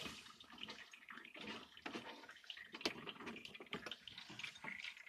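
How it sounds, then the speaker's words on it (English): A Keurig coffee maker powered through a 2000-watt Samlex inverter, after three years of use, has water overflowing back into its reservoir, giving faint close gurgling and trickling splashes with small irregular spurts throughout. "water is overflowing back into the reservoir, so it's not working very well anymore"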